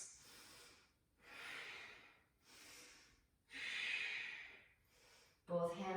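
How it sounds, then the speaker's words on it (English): Deep Ujjayi yoga breathing during a floor twist, a steady series of slow, hissing breaths in and out, close and soft, ending with a brief voice at the very end. "Deep Ujjayi breaths."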